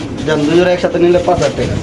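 Lahori pigeons cooing close by in a bird market, soft rounded repeated coos in a steady rhythm over about two seconds, with a voice mixed in.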